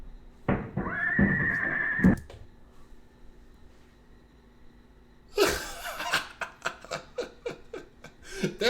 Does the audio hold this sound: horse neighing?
yes